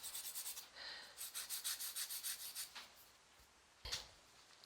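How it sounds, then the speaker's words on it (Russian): A nail file rasps back and forth across a fingernail while it is shaped, giving a quick run of soft, close scraping strokes, a short pause, then a few more strokes. "Спиливайте ногтевую пластину так, какая вам необходима форма будет."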